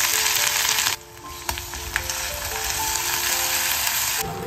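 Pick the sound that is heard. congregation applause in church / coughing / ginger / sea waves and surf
ginger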